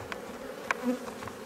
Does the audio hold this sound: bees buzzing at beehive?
yes